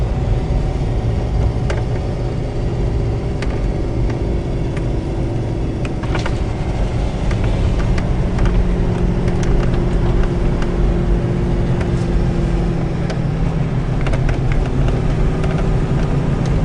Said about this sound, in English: My car doesn't want to run up here, it's so high.